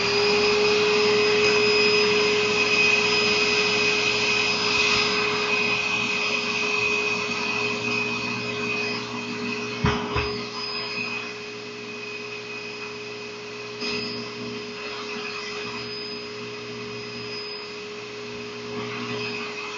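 A motorized buffing wheel polishing a metal tobacco pipe gives a steady close whir with a faint high whine, with a brief louder scuffing burst midway as the pipe presses against the wheel. No one speaks.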